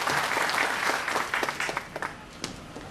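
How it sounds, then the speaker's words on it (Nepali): A seminar audience in Dubai gives a speaker a welcoming round of applause, many hands clapping briskly up close, thinning out to scattered claps by the end. "एकचोटि जोरदार तालीले उहाँलाई स्वागत गर्नुहोस्"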